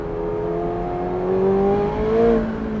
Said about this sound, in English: The transmission shifts so fast.